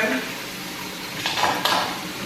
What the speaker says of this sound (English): I prefer to hand wash my dishes.